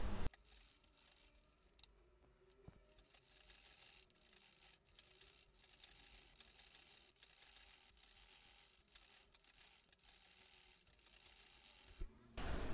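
Sewing machine stitching a star-shaped neck on a kurti, a quiet steady mechanical whirr with faint ticking, fairly soft and unbroken for the whole stretch.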